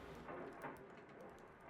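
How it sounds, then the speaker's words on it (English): Faint, continuous rainfall of a thunderstorm used as an audio drama sound effect, a steady hiss with soft low rumbling underneath, quiet and even throughout. "It was a dark and stormy night."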